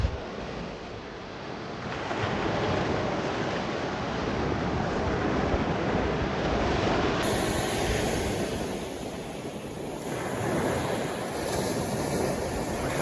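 Waves wash onto Pendower Beach along the Cornish coast path, a steady, fairly soft surf roar that swells and eases with no voices.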